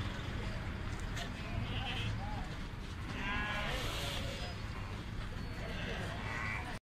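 Sheep bleat at moderate distance over a busy outdoor livestock market in Buraydah with voices talking, several calls rising out of the general noise.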